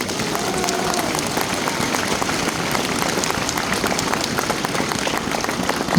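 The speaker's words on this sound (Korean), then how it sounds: "광주 영령들께 감사의 박수를 부탁드립니다." A large outdoor political rally crowd applauds in tribute to the Gwangju fallen: a continuous, dense wash of many hands clapping at a steady level, like rain, filling the whole stretch.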